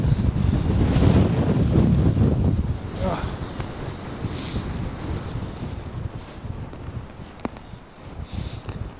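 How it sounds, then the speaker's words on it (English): Strong wind on a fell summit between Lords Seat and Broom Fell buffets the microphone in heavy gusts that ease after a few seconds, and a person speaks briefly. "Very windy!"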